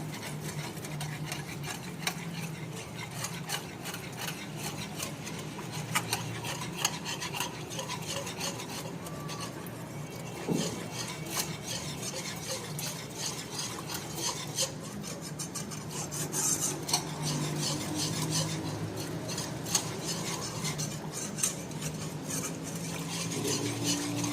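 Flour is stirred in a pan while milk is gradually poured in for a pasta white sauce, producing a continuous, close, rasping scrape of a spoon against the pan with occasional light clinks.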